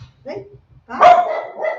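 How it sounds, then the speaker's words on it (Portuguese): A small female dog barks loudly indoors at home, guarding the house; faint softer sounds come first, then one sharp bark followed by continued yapping. "a minha cachorrinha tá aqui, tá, né?"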